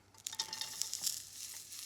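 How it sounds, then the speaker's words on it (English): Garlic hits hot vegetable oil in a pan and sizzles into a bright crackling fry while being stirred for a stir-fry, with light scraping taps, fairly faint and close, with no talk. "And now we can add the garlic."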